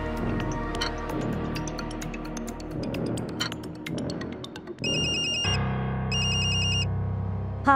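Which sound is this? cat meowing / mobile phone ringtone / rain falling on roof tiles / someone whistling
mobile phone ringtone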